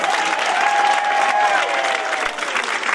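An audience at a women's club Christmas show claps and cheers in a loud, sustained wash of applause that fades slightly toward the end.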